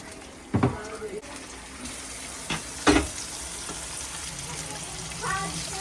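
Chicken roast frying in a pan gives a steady sizzle, broken by a few louder bursts of stirring and spatter, with people talking over it.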